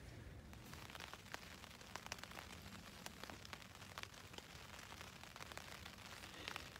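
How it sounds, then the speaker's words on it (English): Freezing rain patters on the fabric of a Jack Wolfskin Chinook 2 tent on a winter night in the LBJ National Grasslands, a steady faint hiss dotted with quick close drops. "So if you can hear that, it's raining."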